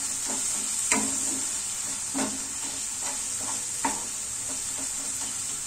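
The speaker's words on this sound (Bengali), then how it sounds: "তাই মিডিয়াম টু লো ফ্লেমে আমি কিন্তু নাড়াচাড়া করছি" Vegetables fry with ground cumin, coriander and turmeric over a medium-low flame, a constant close sizzle and hiss broken by several scraping stirs of a spoon against the pan.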